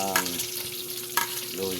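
Garlic fries in a hot pan with a steady close sizzle and crackle, broken by a couple of sharp stirring scrapes, and no talking.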